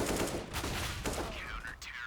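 Gunfire in Counter-Strike during a competitive match on the Nuke map, a short burst of several quick sharp shots heard close over background game noise.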